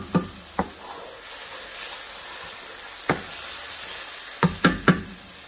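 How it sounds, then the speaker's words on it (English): Meatballs going into a pan of sautéed ingredients and sizzling, a steady hiss broken by several sharp knocks and clatters as pieces are set down. "We're gonna be placing these meatballs in there."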